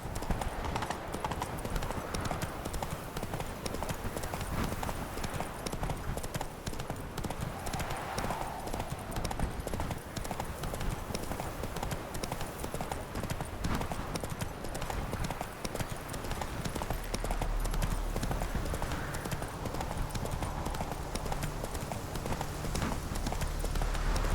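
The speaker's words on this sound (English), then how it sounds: "Some nice horses for these parts." Horse hooves clip-clop steadily in The Witcher 3: Blood and Wine, set in the Duchy of Toussaint, with a continuous rhythmic trot over game ambience and music lasting throughout.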